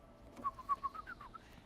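A bird in the video game Death Stranding 2 gives a quick series of soft, faint chirping whistles, about six short notes in a row over a quiet background.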